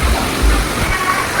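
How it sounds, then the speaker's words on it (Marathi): Water cascades like a waterfall onto a pool at a water park, a loud, steady rushing splash that fills the whole moment close by. "डोक्यावर धबधबा असं पाणी वाजतं"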